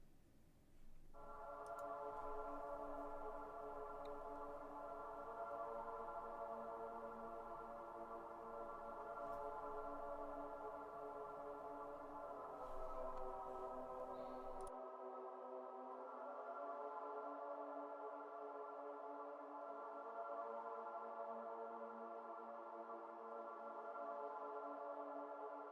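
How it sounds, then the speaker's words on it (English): Haunting backwards piano music plays in a hidden room of a video game, reversed notes swelling in a sustained, droning wash that runs steadily for the whole stretch with no voices. "it's fucking haunting, isn't it? And you get this backwards piano"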